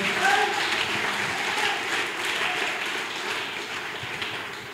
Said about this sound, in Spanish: ¿Cuánto le dan un fuerte aplauso al Rey de Reyes?